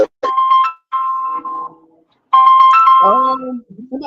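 A mobile phone ringtone plays loud and close as a melodic electronic tune in repeating bursts, while people talk over it.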